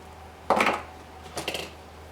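Two sharp, close snips cut through an Eagle Cuda 168 fish finder cable, each a brief crunchy clip about a second apart in a quiet room.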